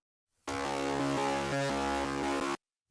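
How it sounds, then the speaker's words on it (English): A simple synth guitar patch built in Serum, part of a modern metalcore synthwave arrangement, sounds alone in one sustained two-second phrase of steady, rhythmically pulsing chords, with no talk. "So the guitar is just a really simple patch I created in Serum"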